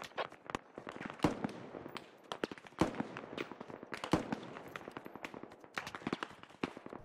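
Rapid, sharp gunshots crack in bursts and single reports through a tactical squad shooter match, some close and some distant, under a steady background hum.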